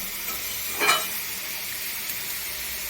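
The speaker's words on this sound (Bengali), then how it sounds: "এরকম হালকা একটু ভেজে নিয়েছি" Katla fish frying lightly in a pan gives a steady soft sizzle throughout, with one brief louder burst of spattering near the start as the pieces are stirred.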